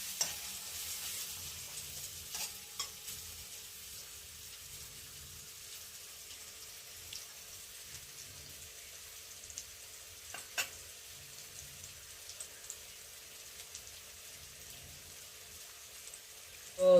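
Onions fry in a pan with a faint, steady sizzle and occasional stirring clicks, quiet and close in a village kitchen.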